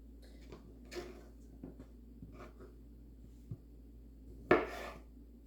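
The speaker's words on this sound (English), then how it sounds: "So I'm cutting it in half moons." A knife slices okra into half moons on a cutting board, producing sparse soft taps and scrapes spread across the clip, with one sharper, louder knock near the end, in an otherwise quiet kitchen.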